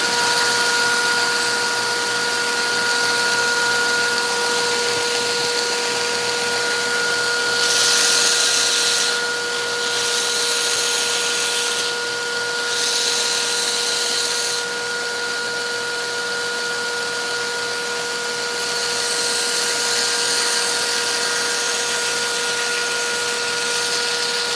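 Continuous harsh rasp of a belt sander running a coarse 45 grit belt, close and steady for the whole stretch, with brief louder bursts of grinding as the belt bites into the wood.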